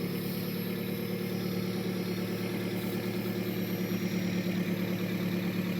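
A 1986 Mazda B2000 SE-5 idles rich just after a cold start with the choke on, a steady, close, unbroken engine drone with a low rumble and no change in pace throughout.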